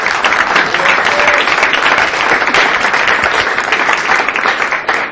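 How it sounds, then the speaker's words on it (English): An audience at a tech innovation lab presentation applauds, steady dense clapping filling the room for several seconds, loud and sustained without a break. "Yes, round of applause."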